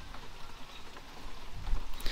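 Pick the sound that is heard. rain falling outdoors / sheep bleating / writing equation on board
rain falling outdoors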